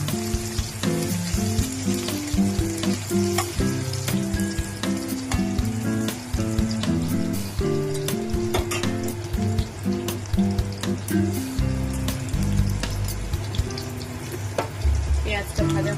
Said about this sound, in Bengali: এবার আমি এর মধ্যে দিয়ে দেবো কুচানো পেঁয়াজ।